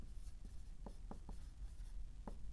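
Marker or chalk writing the word bilirubin on a board during a hematology lecture, a few short scratchy strokes over steady low room hum, no talking.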